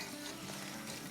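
Meat for a gosht pickle fries in oil over medium-high heat, giving a brief, steady, faint sizzle with no talking.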